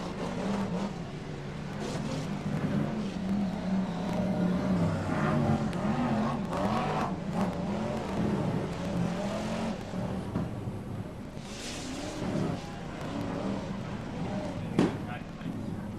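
BriSCA F1 stock cars race at Long Eaton, their engines roaring steadily under continuous race commentary, with loud engine noise throughout and a few sharper bursts.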